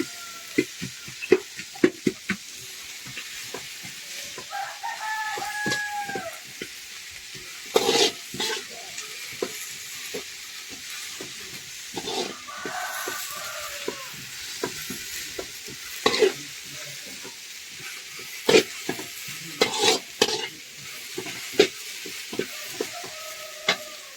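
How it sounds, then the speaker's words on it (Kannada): Chopped onions fry in a pan until they turn red-brown for a chicken sukka. A steady sizzle runs throughout, broken by frequent sharp scrapes and clinks of a spatula stirring against the pan, with no voices. "ನೀರುಳ್ಳಿ ಸೋಪು ಫ್ರೈ ಆವಡು ಮತ್ತೆ ಕೆಂಪು ಆವಡು"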